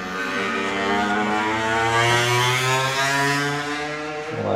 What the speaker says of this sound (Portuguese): Repara a barulheira não, essas motos aí que só faz barulho e não anda